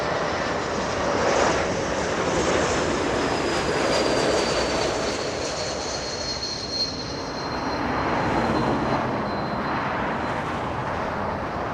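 A Delta A220 airliner arriving at Los Angeles International Airport roars past in a sustained jet-engine wash with a rising whine, loud and continuous, swelling and easing as it passes.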